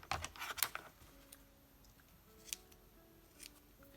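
Scissors make a few quick crisp snips near the start during a craft project, then go quiet, with a couple of isolated snips later on, all close and fairly soft.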